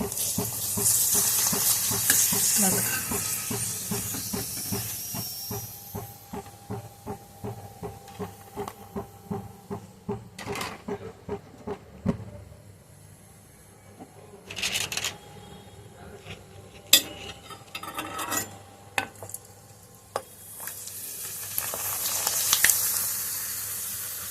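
Sun-dried poha papad frying in hot oil gives a close, crackling sizzle. Hissing swells come with each papad as it puffs, and a few sharp pops and clinks sound between batches, with no talking.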